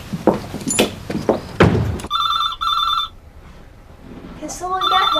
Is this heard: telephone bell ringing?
yes